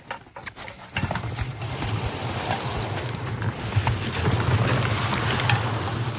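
Hooves of Clydesdale draft horses clip-clopping steadily through woods on an old farm, close and continuous with a rhythmic thudding gait, brushing sounds behind.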